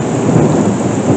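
A thunderstorm with heavy rain gives a dense, loud rumble and wash of falling water, continuous and close, with no voices.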